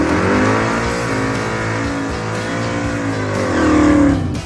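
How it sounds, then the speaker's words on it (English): A drag car on E85 with nitrous launches and leaves on motor, its engine roaring loud and close with rising harmonic revs across the pass, a surge in power near the end. "The car should make pretty decent power leaving on motor."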